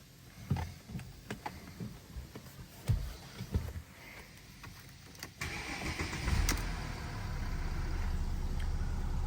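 A Mercedes C350 engine cranks and fires after a few clicks and knocks, then settles into a steady, fairly loud idle that holds to the end, with no voices.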